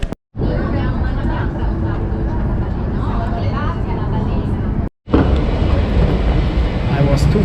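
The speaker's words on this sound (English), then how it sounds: "So I take now the metro to the city Barcelona." A Barcelona metro train rumbles and hums steadily from inside the car, loud and continuous with two brief cuts, with faint voices in the background.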